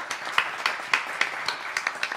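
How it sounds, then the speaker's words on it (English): A crowd claps for a special guest at a love and soul sing-along event, a dense steady patter of many hands, fairly close and lively with a few sharper individual claps standing out. "Big round of applause for Mark Lewis."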